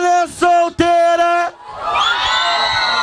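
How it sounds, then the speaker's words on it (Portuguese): Women in a crowd at a private carnival party scream and whoop, loud sustained shrieks in two bursts followed by a wash of overlapping cheering voices. "O gritinho da mulher solteira."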